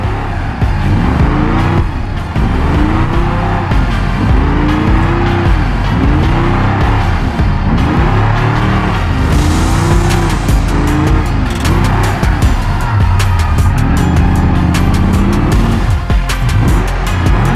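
Car drifting in the BeamNG driving game, engine revving loudly in repeated rising and falling swells as tires squeal through slides, close and continuous with no talk.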